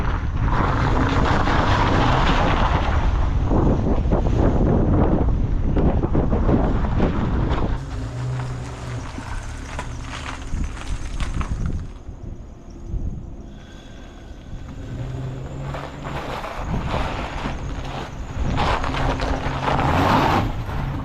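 An old Jeep Cherokee on a test drive, its engine and road rumble loud and steady with heavy wind buffeting the microphone, easing somewhat midway before building again.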